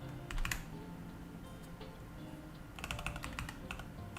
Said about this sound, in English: Keyboard sounds nice.